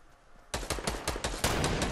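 Enemy gunfire in the video game Fortnite starts abruptly after a quiet half second, then rapid, evenly spaced loud shots rattle on in a close burst, with no talk.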